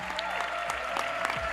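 A town-hall crowd gives a short burst of sustained applause for a panelist at an economic empowerment discussion, with dense clapping and a faint amplified voice beneath it.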